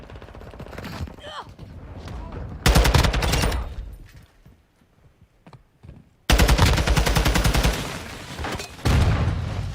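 Call of Duty Modern Warfare II gunfire: two long bursts of heavy automatic fire, loud and close, with a quieter stretch of scattered shots and game voice chatter between them.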